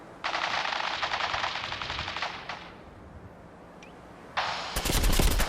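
In Fallout 4, long bursts of rapid automatic gunfire rattle loudly, pause briefly, then resume in heavier volleys with sharp cracking shots near the end.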